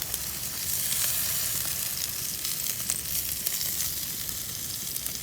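Steaks and potatoes fry on a camp stove, giving off a steady close-up sizzle with crackling pops throughout and no voices over it.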